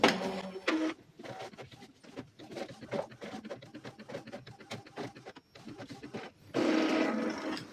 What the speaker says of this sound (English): Give it a moment until it prints the nozzle check pattern.